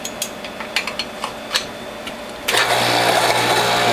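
A juicer fitted with a number 2 grid with 1/8-inch holes starts up and grinds carrots, a loud steady whir after a few light clinks.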